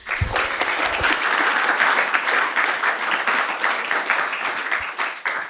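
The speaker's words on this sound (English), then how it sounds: "So can we give him a round of applause?" Sustained applause from a debate audience, dense and even, with many hands clapping steadily throughout at close range.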